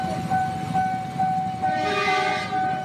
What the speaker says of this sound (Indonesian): Oh, kereta 2, kereta 2, kereta 2.